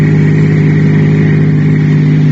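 A car-driving sound effect from an old-time radio drama: a loud, steady engine drone with a constant low hum, unbroken and with no voices over it.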